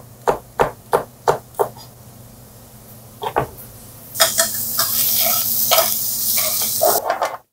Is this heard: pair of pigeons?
no